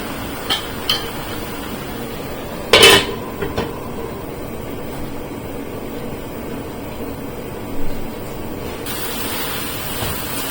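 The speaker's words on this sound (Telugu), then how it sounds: "మూత పెట్టి ఉడకనిద్దామండి." A cooking pot being covered with its lid while a Telugu raw banana and raw mango pulusu simmers, giving one sharp metallic clank near the start and a softer knock later, alone over a quiet kitchen background.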